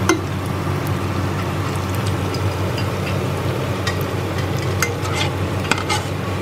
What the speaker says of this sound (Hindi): फ्राई कर लेते हैं जब तक वो चाशनी में डिप हैं